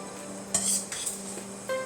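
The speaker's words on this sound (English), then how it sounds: "you're just gonna keep on stirring your fried rice around until your fried rice comes out fully cooked" Fried rice being stirred around in a pan with a utensil, scraping and clinking against the metal in short irregular strokes over a faint sizzle, close and moderately loud with no talking.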